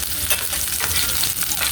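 Onions stir-fried in a hot pan give a close, steady sizzle broken by quick scraping stir strokes, with no voices.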